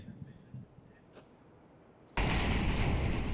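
A Counter-Strike grenade blast during a professional esports match: near silence, then an abrupt, loud burst of broadband roar that holds steady to the end.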